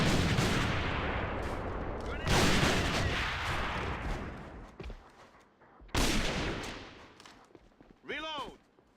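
Gunfire in the video game AVA (Alliance of Valiant Arms) during an ESL esports match, loud sustained bursts of automatic fire broken by short pauses, with a brief electronic chirp near the end.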